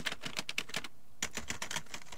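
Keys clack on a new gaming keyboard in quick, uneven bursts with a brief pause midway, close and crisp, with no talking.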